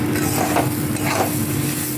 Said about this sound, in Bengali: চালটা বেশ ভালোভাবে ভাজা হয়ে গেছে।